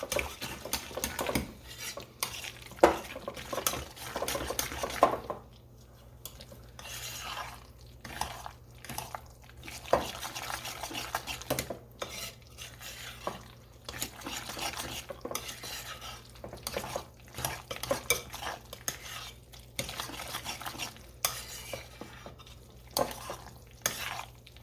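Roasted sweet potato mash stirred by hand in a bowl, a steady run of scraping, clinking utensil strokes against the bowl sides, close and continuous with no talk.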